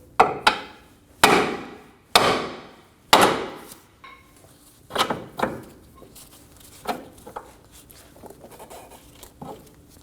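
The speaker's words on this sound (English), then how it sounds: "Using a hammer, we're going to break the tension for the lower ball joint to the knuckle." Several sharp metallic hammer blows on the steering knuckle to break the lower ball joint loose from a 2008-2015 Scion xB, the first four loud and spaced about a second apart, followed by lighter, quicker taps.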